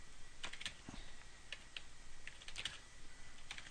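Typing on a computer keyboard into a text area, close and clear, a few irregular bursts of light key clicks over a steady background hiss, with no talking.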